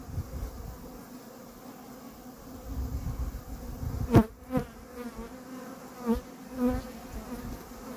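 Honey bees hum steadily at an open horizontal top-bar hive during a honey harvest, a soft, continuous drone with a few louder passes as bees fly close to the microphone.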